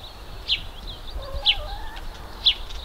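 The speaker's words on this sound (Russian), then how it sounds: "сколько петух прокукарекал раз" A rooster crows several times outdoors at moderate distance, with short bright calls at a steady rhythm against quiet background ambience.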